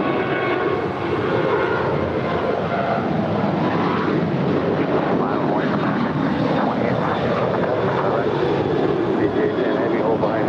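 A Fiji Airways jet airliner at LAX roars steadily and loudly for the whole stretch, a broad engine rumble with people talking underneath.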